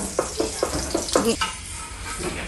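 Spaghetti sauce stirred in a sizzling frying pan, with several quick scraping strokes over a constant frying hiss and a voice heard briefly.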